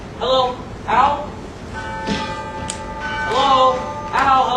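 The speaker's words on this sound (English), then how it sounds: "That's the doorbell, dear, not the telephone" A doorbell chimes with sustained ringing tones mid-clip, between stretches of nearby speech during a stage play; a couple of sharp high clinks punctuate it.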